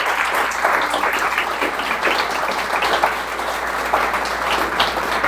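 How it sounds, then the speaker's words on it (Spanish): A church congregation applauds together, steady and full throughout, a dense wash of clapping filling the space with no break. "Dale un fuerte aplauso a Dios."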